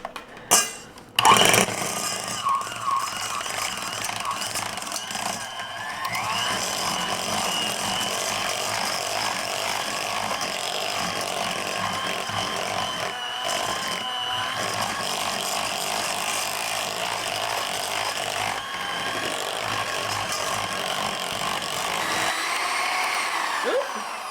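A hand mixer whirs steadily through cream cheese Catalina dip, a continuous buzzing drone that holds for over twenty seconds after a few brief clunks at the start, close and fairly loud with no talking.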